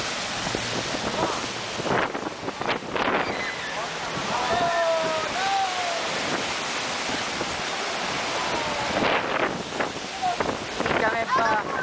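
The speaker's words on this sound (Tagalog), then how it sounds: "Isang napakalaking alon din ang bumulaga sa isang resort sa Mexico." An enormous wave crashes into a beachfront resort in Mexico, a roaring surge of water buffeted by heavy wind noise, while people nearby shout and cry out over the rushing din.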